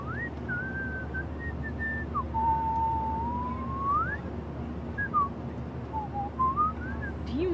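A game character whistles a wandering, sliding melody in Life Is Strange, clear and fairly close over a steady low background hum, with short pauses between phrases.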